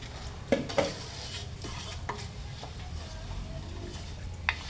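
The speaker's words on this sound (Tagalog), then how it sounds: "Tapos, ilagay natin ang gata." Coconut milk goes into a sizzling pan and is stirred, producing a soft steady sizzle punctuated by a few sharp utensil scrapes and clinks against the pan.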